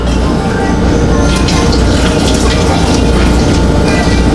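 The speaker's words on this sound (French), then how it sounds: "Je vais ajouter aussi un peu de l'eau" Water poured from a tap or jug into sautéed potatoes in a pan on a kitchen stove, giving a steady, close, loud rush and gush with no gaps.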